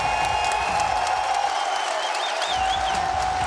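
Crowd at a Counter-Strike match on the Mirage map, noise rising and falling at steady volume throughout, a broad mix of cheering and clapping that sounds mid-distance.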